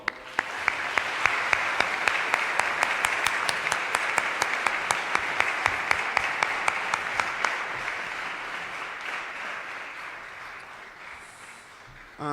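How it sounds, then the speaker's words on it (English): A school assembly crowd applauds steadily, a dense wash of many clapping hands that holds strong for several seconds and then gradually thins and fades. "please, a round of applause for all those people."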